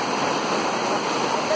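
Strong, steady rush of river water pouring down a natural rock slide at Rio do Boi, a dense broadband roar close by that holds level throughout without pause.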